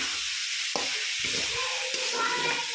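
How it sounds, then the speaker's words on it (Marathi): Soaked rice stir-fried with vegetables in a kadai for pulao: a constant loud sizzle with a few scraping stirring strokes cutting through, close by. "तांदूळ याच्यामध्ये मी घालून घेतलेला आहे आणि छान असा सुद्धा मस्त परतवून घेते मी"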